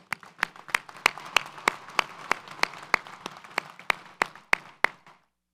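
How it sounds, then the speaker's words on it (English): Evenly spaced claps, about sixteen in steady rhythm, ring out at a Del Mar College Fall 2023 commencement ceremony and stop abruptly after about five seconds. "One more round of applause, please."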